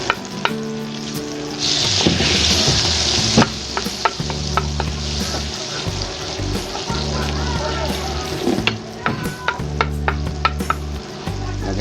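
Margarine sizzles and fries steadily in a hot pan for a Visayan-style spareribs kaldereta, with stirring scrapes and clatter throughout and a voice talking over parts of it.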